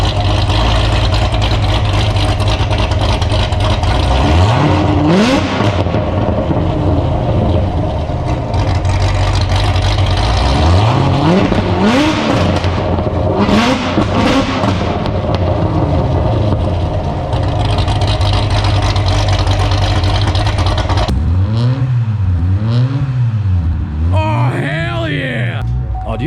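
A 1,000 hp Corvette ZR1 on its stock exhaust, the engine idling loudly and revving up and down repeatedly in a close, sustained roar before settling into a lumpy idle.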